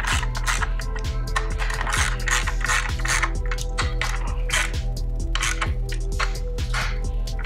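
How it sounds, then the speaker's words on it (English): A hand ratchet tightens 13 mm handlebar bolts on a Yamaha Grizzly ATV, giving loud, close, steady clicking in quick, even strokes throughout with no speech. "the bolts that we provide are a 13 millimeter. So once you have that, snug these up a little bit."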